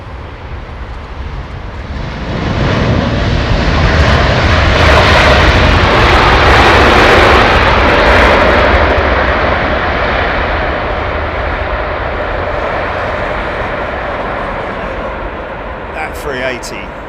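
A heavy jet airliner roars down the runway on takeoff at London Heathrow Airport, a loud broadband rumble building over a few seconds, holding strong, then slowly easing as it climbs away, with faint voices underneath.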